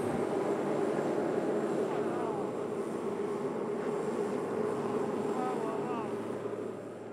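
Drone of a DC-3 airplane flying over an Arctic ice setting on a supply drop, a steady distant propeller engine hum that stays even and fairly faint before easing off slightly at the end.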